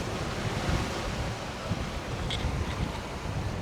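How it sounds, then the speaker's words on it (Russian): Atlantic Ocean surf on the Moroccan coast, a steady broad wash of waves heard with wind buffeting the microphone, fairly faint and continuous with no distinct breaks. "А океан вон там. Вон там океан. Атлантика."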